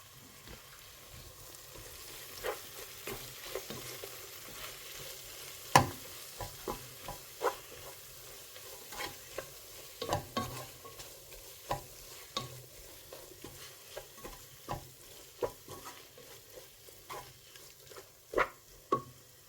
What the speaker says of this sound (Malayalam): ഇനി ഈ പൊടികളുടെ പച്ചമണം മാറുന്നത് വരെ നന്നായിട്ടൊന്ന് ഇളക്കി കൊടുക്കണം.